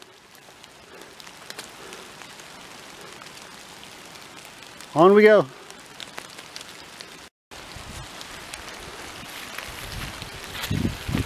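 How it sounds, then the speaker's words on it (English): Steady rain patters on a surface on an open, muddy forest hiking trail, with a brief burst of birdsong midway and a short spoken phrase. "And it's raining again."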